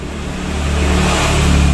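A motorcycle engine with an oil-fouled spark plug, white exhaust smoke and suspected worn valve seals or piston rings revs steadily and loudly, the drone building in intensity close by with no talking.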